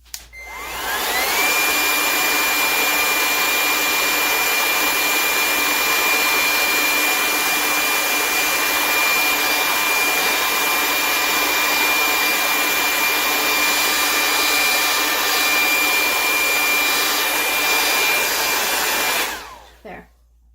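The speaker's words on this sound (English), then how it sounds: "I'm going to dry this area." Hair dryer blowing on wet paint on a painting runs steadily and loud for about twenty seconds with a constant whine, then cuts off at the end.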